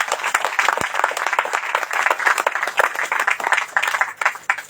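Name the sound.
clapping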